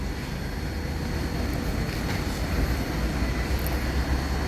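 A DJI drone flies overhead on a zigzag mapping mission, a faint, steady airborne hum under broad wind-like noise with no one speaking.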